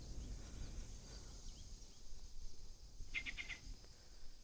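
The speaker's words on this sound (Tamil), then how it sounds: "இந்த மரத்தில் என்னென்னமோ பறவைங்கள்லாம் சத்தம் போடுது." Several birds calling from a tree in a forest, a brief cluster of chirps standing out over steady rustling background noise, fairly faint and distant.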